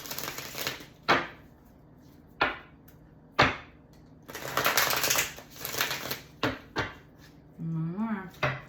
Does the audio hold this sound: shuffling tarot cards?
yes